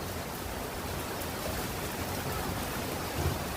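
Heavy unseasonal rain pours down outdoors during a thunderstorm, a dense steady hiss of falling water with a faint low rumble near the end, and no talk.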